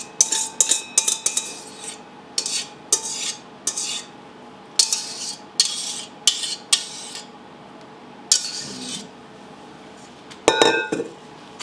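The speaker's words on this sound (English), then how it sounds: "And we're going to lightly fold this in." Whipped egg whites folded into lemon soufflé pancake batter in a bowl, a utensil scraping and clinking against the bowl in short, repeated strokes, close and fairly crisp, with no talking.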